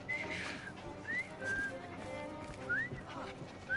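Someone whistling nearby in short, rising and falling notes with small gaps between them, over a faint background murmur.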